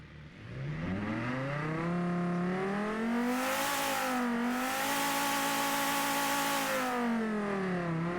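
A sports car engine in the video game BeamNG.Drive revs up steadily, its pitch climbing and holding high, then dipping and rising again; loud, continuous, synthetic-sounding, no voices.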